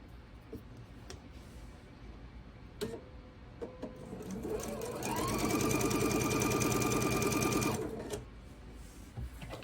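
A sewing machine stitches quilt pieces for half-square triangles, its needle running in a steady rapid chatter for about three seconds after a few soft clicks and handling noises.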